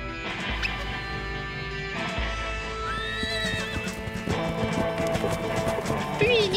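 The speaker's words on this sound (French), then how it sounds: "un cheval." A cartoon horse whinnies over galloping hoofbeats, with a busy musical background and animated voices mixed in.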